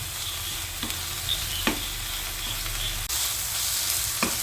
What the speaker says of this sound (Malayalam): ഇളക്കി കൊടുക്കട്ടോ